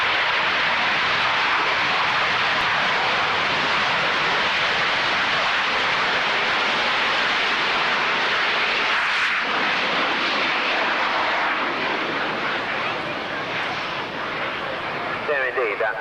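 Aircraft of 56 Squadron fly over at the Coningsby airshow, producing a loud, sustained broadband engine roar close overhead that swells and shifts for the whole stretch.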